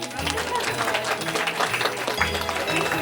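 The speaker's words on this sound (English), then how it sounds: "Can we have a round of applause?" Crowd applause at a holiday celebration, dense steady clapping from many hands filling the room throughout, with voices mixed in underneath.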